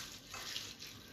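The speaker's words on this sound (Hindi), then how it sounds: "बिल्कुल साफ पानी से अच्छी तरीके से हम इसको वॉश करेंगे" Running tap water rinsing flattened rice (poha) for a baby's meal, a steady bright splashing wash heard close up without any voices.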